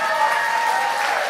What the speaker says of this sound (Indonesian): Tepuk tangan dong buat Indonesia.